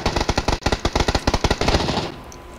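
Automatic rifle fire in PUBG Battlegrounds, a fast, evenly spaced burst of loud, close shots lasting about two seconds before it stops.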